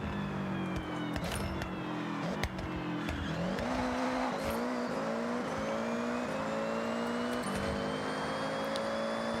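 Race-style car engine in a video game revving through repeated gear changes, its pitch climbing and dropping in steps, with brief tire squeals, heard steady and fairly loud with no voices.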